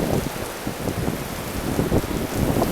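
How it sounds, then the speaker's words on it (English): Heavy rain in a rain storm, a loud, dense, continuous hiss and patter of drops hitting surfaces close by, with no talking. "look at that rain."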